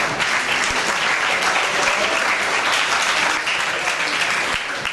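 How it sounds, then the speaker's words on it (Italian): An audience applauds loudly and steadily after a talk on women's football, a dense, continuous roar of many clapping hands filling the whole stretch without letup. "un applauso"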